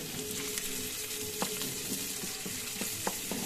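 Ground pork sizzling and frying with bitter gourd in a mini rice cooker, a steady close crackle broken by a few sharp stirring clicks and scrapes, with no talking.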